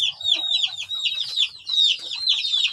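A crossbred village hen with Arab-pattern plumage clucks and chatters in quick, high repeated calls, close by and fairly clear, with brief pauses between bursts.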